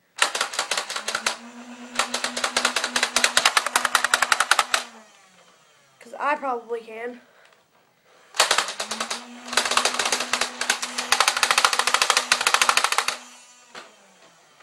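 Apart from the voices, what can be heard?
Nerf Elite Hail-Fire blaster firing darts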